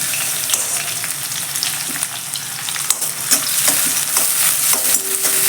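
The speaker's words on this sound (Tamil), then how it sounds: "வெங்காயம் வதங்கட்டும்" Onions and mushrooms fry in a pan for mushroom gravy. There is a loud, continuous sizzle, and scraping stirs and clicks of a utensil are heard close up throughout, with no talk.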